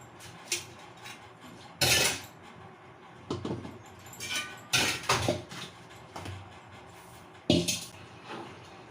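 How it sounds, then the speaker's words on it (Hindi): Cooking utensils and dishes are washed at a home kitchen sink: quiet, irregular clatters, clinks and knocks of pots and cutlery, spaced a second or two apart. "तो मैं बर्तन भी धुल लूँगी।"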